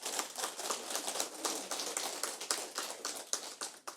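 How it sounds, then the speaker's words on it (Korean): People gathered for a Buddhist dharma talk clap together in a quick, steady patter of many hands at moderate loudness, with no speech over it. "박수 한번 치십시오."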